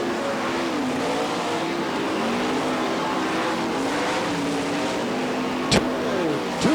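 Race cars in a 10-lap heat race at the All Star Circuit of Champions Winternationals in Gibsonton, Florida, a loud continuous roar of several engines with rising and falling pitch as cars pass, and a brief bang near the end.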